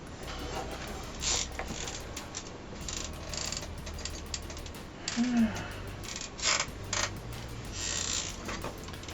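A screwdriver works screws out of an IBM ThinkPad 380XD laptop, with repeated ratcheting clicks and creaks in short bursts and pauses, close up and fairly quiet.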